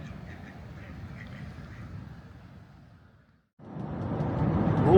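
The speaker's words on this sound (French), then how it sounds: "y a plein de canards." A flock of tame ducks quacks in a run of soft, repeated calls over a steady outdoor rumble, then a brief lull before louder broadband noise swells in.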